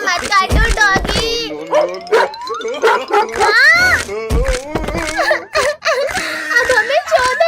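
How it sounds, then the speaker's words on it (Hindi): A pet dog barks and yips in a lively, excited outdoor street scene during a festive Diwali celebration, with short bursts mixed among several people talking and shouting nearby. "डॉगी भाई प्लीज हमें मत काटना, वरना हमें 14 इंजेक्शन लगेंगे"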